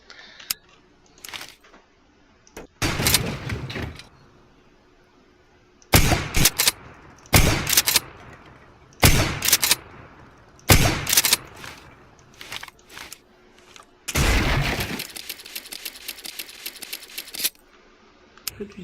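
Bursts of gunfire and explosions in Garry's Mod come in sharp, loud clusters separated by near silence, with one longer sustained blast near the end.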